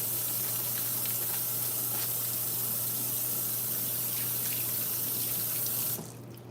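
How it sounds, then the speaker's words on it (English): A tap runs in a steady, close hiss of water while hands are washed at a sink, cutting off abruptly near the end. "let me wash my hands and then we'll finish."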